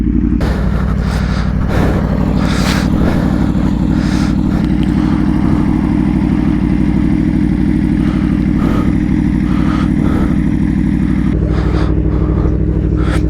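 Aprilia Tuono V4R motorcycle running by a muddy lakeside spot, its engine a steady, loud, close rumble throughout with a few faint clatters and a slight change in tone near the end.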